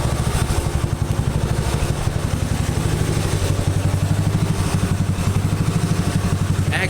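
A motorcycle engine runs steadily through a homemade double muffler. The exhaust pulses are loud, close and even, with no voices.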